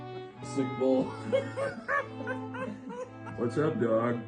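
A dog inside a farmhouse whimpering and yipping in a run of short, high, nasal cries close by, several bursts with brief pauses between them.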